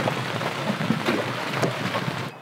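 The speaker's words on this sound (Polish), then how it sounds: "ponurkowaliśmy i nadchodzi deszcz" Outdoors near a boat after a dive, rain is starting: a dense, steady patter of drops hitting surfaces, loud and close throughout.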